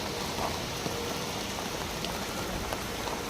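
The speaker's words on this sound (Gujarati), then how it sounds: "વરસાદ એવો છે" Steady, dense rain at night in Bangalore hisses evenly and fills the scene, with scattered drops standing out faintly and no one talking.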